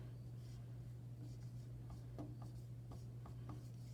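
Pencil writing a number on paper, soft scratchy strokes in short bursts against a steady low background hum, close and fairly quiet.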